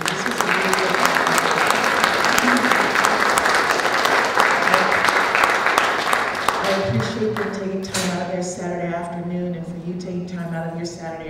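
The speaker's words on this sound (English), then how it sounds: "a round of applause for our panelists" Steady, dense applause from an audience honoring panelists fills the room, then fades as a voice begins speaking over the last few seconds.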